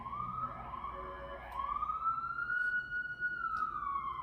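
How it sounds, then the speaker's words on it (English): A siren wails in the distance, its pitch rising and falling slowly as it passes, with no talking. "there's our confirming siren in the background"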